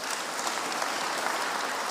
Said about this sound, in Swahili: Tuwapige wachungaji wetu makofi.